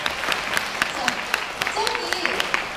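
An audience at a Mabinogi game showcase claps in a steady, rhythmic beat, each clap a crisp, evenly spaced strike under a voice speaking over it.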